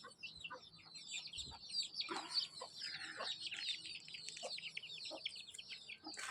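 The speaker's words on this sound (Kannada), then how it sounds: "ಇಲ್ಲಿ ರಾಗಿ ಅದೆಲ್ಲ ಹಾಕಿರೋದನ್ನ ಮೇಯ್ತಾ ಇದೆ ನೋಡಿ" Young desi chicks on a farm peck at scattered ragi, filling the air with close, busy, overlapping high peeps and soft clucks that continue without a break.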